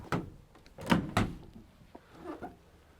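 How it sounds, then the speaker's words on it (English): Rear doors of a 2015 Ford Transit Custom panel van swing open, a few sharp metallic clunks and latch thunks in quick succession followed by fainter creaks and rattles, close and distinct. "Also, doors open 180 degrees."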